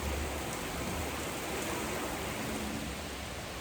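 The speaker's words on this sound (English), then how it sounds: "It's starting to rain here." Steady rain falling outdoors as a storm begins, a soft continuous broadband hiss with no distinct drops, holding at an even level throughout with no talking.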